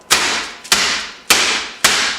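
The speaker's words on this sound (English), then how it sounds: "get your ball peen hammer out" A ball peen hammer pounds beef slices on a table in four loud, evenly spaced strikes, each a sharp smack that fades away before the next.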